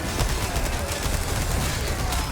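Dense, rapid bursts of gunfire from Resident Evil 4 Remake blast continuously with no pauses, loud and harsh throughout.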